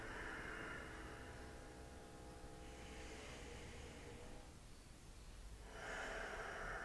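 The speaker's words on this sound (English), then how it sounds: "Soft, deep ujjayi." Soft, deep ujjayi yoga breathing during a hip stretch: slow, close, airy breaths with a gentle hiss, drawn in and let out at low volume with no talking.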